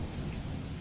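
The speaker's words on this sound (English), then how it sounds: "it was a rainy day on the island of Sodor" Rain pours down on a gray day on an island railway, a dense, loud wash of noise with a low rumble throughout.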